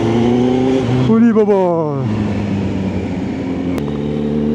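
Kawasaki Z900 superbike engine running loud and steady throughout, with a brief rise in revs, while people talk and exclaim over it.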